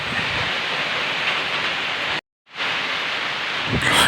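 Heavy rain pours steadily in a broadband roar during a flooding downpour in the Philippines, loud and continuous, broken once by a brief total dropout before the downpour resumes.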